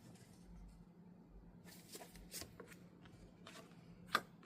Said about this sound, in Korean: 여기서 이제 조언 카드 한 장 더 뽑고 리딩 이어가 볼게요